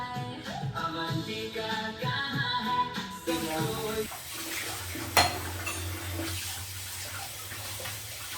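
In a home kitchen, leftover food is rinsed off dishes under running tap water, with clinking pots and utensils. Faint music plays at first, and then steady water flow and scattered clatter continue.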